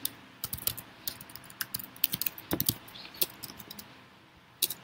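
Keys click in quick irregular bursts on a computer keyboard, close and fairly quiet, with short pauses between flurries of typing.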